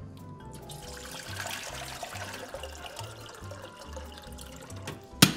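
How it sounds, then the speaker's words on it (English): Water poured in a kitchen while following a recipe, a continuous trickling splash that runs steadily at moderate volume over a faint rhythmic low hum, ending in a sharp clatter. "add water"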